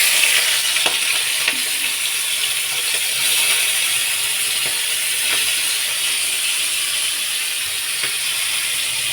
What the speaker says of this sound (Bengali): তেলেতে বেছে রাখা চিংড়ি মাছটা দিয়ে দেব।